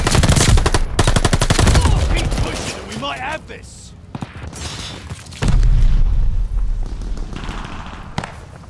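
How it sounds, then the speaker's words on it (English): Call of Duty: Vanguard battle with airstrike bombing: loud bursts of gunfire and heavy booming explosions, a sharp loud opening and another surge midway, with voices talking in between. "Allies call the airstrike."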